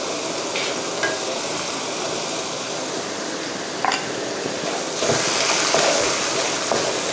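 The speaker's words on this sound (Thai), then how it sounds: "ทีนี้เราก็จะผัดไปเรื่อยๆจนส่วนผสมเนี่ยงวดแห้งกัน" Curry puff filling is stir-fried in a pan with a constant frying hiss, occasional scraping knocks of the utensil, and a louder burst of sizzle near the end.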